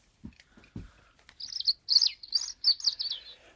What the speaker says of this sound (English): It had beautiful, beautiful birds.